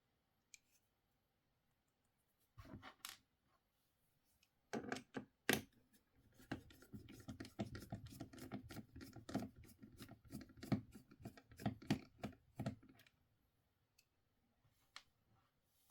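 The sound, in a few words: unscrewing laptop screws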